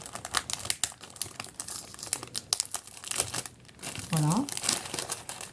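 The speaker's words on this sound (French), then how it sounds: "On est sur une petite pochette qui fait pas trop de bruit." A small plastic packaging pouch crinkles and rustles up close as it is handled and opened, with soft tearing and crackling, and a person speaks briefly over it.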